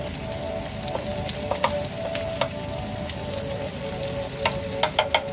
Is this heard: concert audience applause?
no